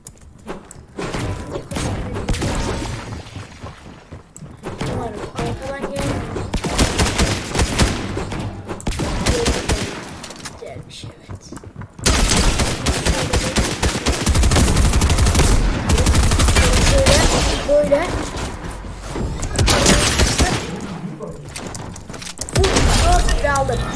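Shotgun blasts and other gunfire in a video game, dense bursts of shots and thumps running throughout, loud and close, with a voice talking over parts of the action.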